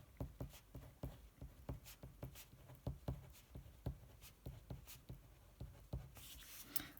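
A pen scratches out a chemistry calculation on paper in quick, rhythmic strokes and taps, close and quiet, with faint room noise and no voices.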